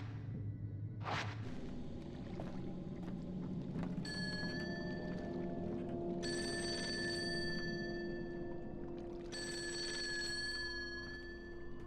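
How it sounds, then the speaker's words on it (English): A telephone rings in the Fatal Frame: Maiden of Black Water video game, two bright electronic bursts after a whoosh, set against a low eerie ambient hum with no talk. "You expect me to answer this phone?"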